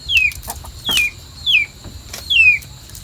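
A rooster crows four times in short, sharp, evenly spaced calls, close and clear, against a quiet rural evening background.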